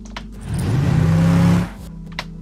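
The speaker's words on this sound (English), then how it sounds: "you hear the car entering on the right, and then you hear the sound balancing in to the center" A single car-passing sound effect swells in, roars past for about a second with a rising whir, then cuts off, with faint clicks before and after and no voices.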